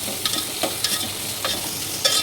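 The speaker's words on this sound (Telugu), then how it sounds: "ఇప్పుడు ఆనియన్ వేసేస్తున్నాను, నూనెలా వేడెక్కింది నూనె" Chopped onion fries in hot oil in a home kitchen while a spoon stirs it, making a steady close sizzle broken by repeated scraping stirs at an uneven rhythm, with no talking.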